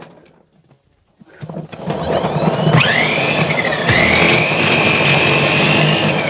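An electric 6-in-1 vegetable cutter machine with three speed settings whirs up from near silence, then runs steadily and loudly with rising and shifting motor pitch.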